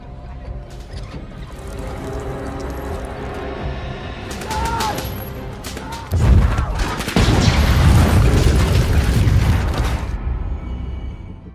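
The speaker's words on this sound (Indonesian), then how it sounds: "ledakan pun terjadi" A loud explosion bursts in midway, a deep rumbling blast with crackling debris that roars on for several seconds before cutting off.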